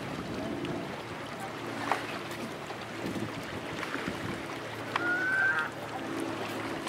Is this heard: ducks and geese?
yes